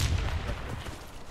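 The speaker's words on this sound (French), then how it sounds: "Attention," A grenade blast in a multiplayer shooter, a loud heavy boom with deep rumbling low end that decays over about a second.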